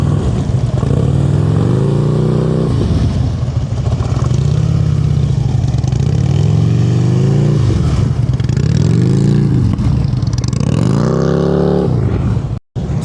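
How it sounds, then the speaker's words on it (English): A motorcycle's throttle rises and falls repeatedly during slow-speed cone practice, engine pitch swelling and dropping in several close, loud rev cycles with a brief cutout near the end. "I'm hearing a lot of throttle, up, down"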